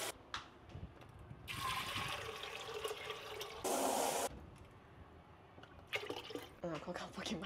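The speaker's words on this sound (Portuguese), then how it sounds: "Eu nunca tenho certeza, gente, quanta água colocar quando eu faço feijão" Water pours from a tap into a pressure cooker for cooking beans, a few bursts of running and splashing water, one louder gush midway, with quieter kitchen handling sounds between.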